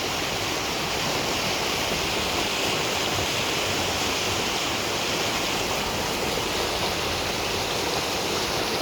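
Clear river water flows in a steady, full broadband rush across a wide stream in the mountains of northern Idaho or Montana, continuous and close with no voices.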